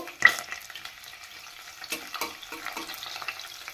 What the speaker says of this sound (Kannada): ಬೆಳ್ಳುಳ್ಳಿ ಸೇರಿಸ್ತಾ ಇದ್ದೀನಿ, ಸಣ್ಣದಾಗಿ ಕಟ್ ಮಾಡಿರೋ ಬೆಳ್ಳುಳ್ಳಿ.